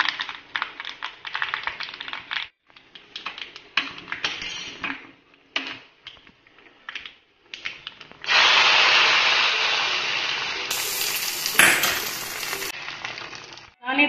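Dried chilies drop into about two spoons of hot coconut oil with mustard seeds for a Konkani tempering. Scraping and rubbing come first, then a sudden loud, steady sizzle takes over from about the midpoint, close up, with no talk.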